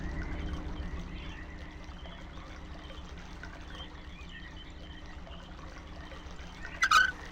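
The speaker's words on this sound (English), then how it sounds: "So we got water flowing down there now." Water flowing through pipes in the realMYST game's Channelwood Age, feeding a large reservoir: a steady, low trickling pour runs throughout at moderate level, with a brief louder splash or clunk near the end.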